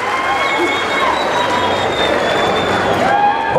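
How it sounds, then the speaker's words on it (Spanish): A crowd at a jaripeo rodeo in Mexico applauds and cheers, a dense, continuous wash of clapping and voices that stays loud throughout, with scattered shouts and whistles over the top. "Que venga el aplauso, muchachos, el aplauso grande"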